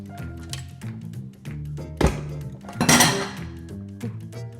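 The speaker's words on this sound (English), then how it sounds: "There goes all my dishes in the sink." Kitchen dishes, pots and cutlery clattering loudly into a sink, with several sharp clinks and a big crash in the middle, over a steady background tone.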